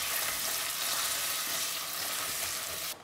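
Butter sizzles steadily in a hot pan over the heat for an apple upside-down cake, a dense continuous crackle and hiss that cuts off abruptly near the end.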